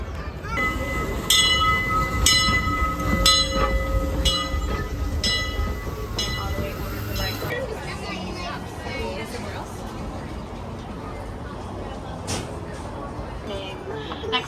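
A Disneyland train runs on a rainy day, a steady rumble of cars rolling along the track with a regular run of clicks early on. People talk over it.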